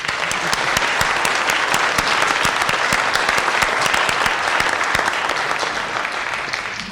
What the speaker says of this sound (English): I'd like us all to give a round of applause to our speakers, please